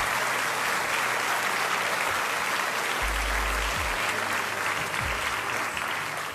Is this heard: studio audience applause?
yes